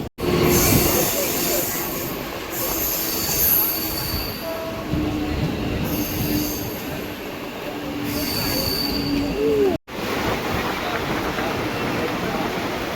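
A Mumbai suburban local train rumbles along the tracks with high-pitched wheel squeals rising and fading, steady rolling noise throughout, and a brief break near the end.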